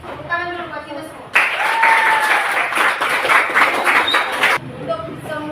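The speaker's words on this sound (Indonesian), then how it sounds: "Tepuk tangan dulu buat kita semua" A classroom of pupils breaks into loud, busy applause for everyone, lasting about three seconds, with a teacher's voice speaking just before and after.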